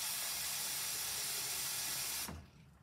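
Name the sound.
water being boiled for oatmeal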